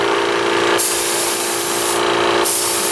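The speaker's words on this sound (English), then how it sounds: "Pressure's up here getting good and we'll start spraying" A paint sprayer hisses loudly and up close as it coats a 1/4 scale Piper Cub model fuselage, the steady airy spray bursting on and off in three long passes separated by short pauses, with no talking.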